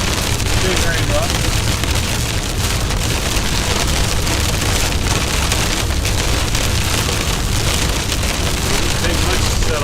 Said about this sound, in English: I just heard Heavy rain.